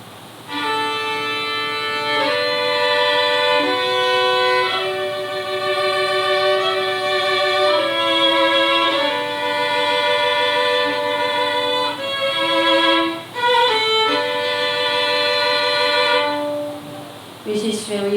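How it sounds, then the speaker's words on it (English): Bowed string instrument playing double stops, two notes sounding together in sustained, shifting pairs, rich and resonant, played alone with brief pauses between phrases. "when you play the double stop, you will see the sound will be more rich"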